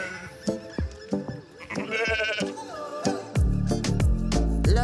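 Freshly shorn sheep at Puy du Fou bleating in several loud, wavering calls from nearby, followed by music with a heavy beat.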